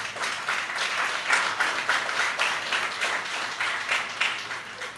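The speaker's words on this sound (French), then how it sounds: "Madame Marie-André Etienne, que je vous demande d'applaudir." Audience applause at a formal ceremony honouring a late writer, a steady, dense burst of clapping from a large assembly that swells and holds for several seconds with no speech over it.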